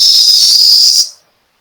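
A voice imitates a high, steady whistling tone, held loud and breathy for about a second before it cuts off into silence.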